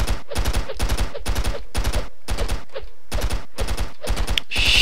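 Rapid AK-47 fire in the stick-figure shooter Stick Arena Dimensions: about nine tight, loud bursts of automatic gunfire in a steady stuttering rhythm, separated by brief gaps, with no talking.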